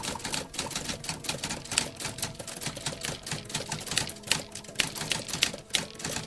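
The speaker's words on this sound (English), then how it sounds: "I said typewriter. Typewriter sounds." An old-school manual typewriter rattles nonstop as a sound effect, with dense, even keystrikes at close range filling the whole stretch and no voices over it.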